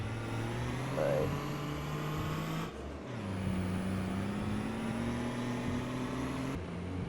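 Car cruising along a highway near the Wisconsin border, a steady low engine and road drone from inside the cabin, continuous and moderately quiet with a brief dip midway.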